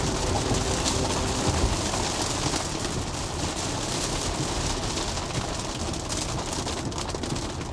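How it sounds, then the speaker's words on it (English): Steady rain patters across a car, a constant broadband hiss with faint low rumble of traffic beneath it. "I'm not sure how loud the rain is"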